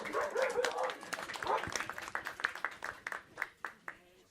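An audience applauds at a live Dutch show, a dense burst of clapping that thins into scattered claps toward the end, with a voice over the start.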